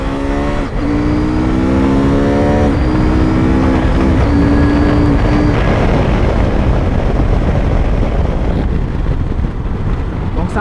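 A 2022 CF Moto 800MT motorcycle accelerates hard, its engine note climbing in rising steps broken by quick quickshifter gear changes, loud and close, before fading into steady wind noise.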